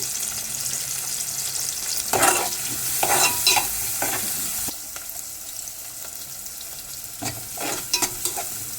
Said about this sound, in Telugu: కొద్దిగా ఆన్లో పెట్టుకొని వేయించుకుందాం మనం అట్లాగే కొద్దిగా పసుపు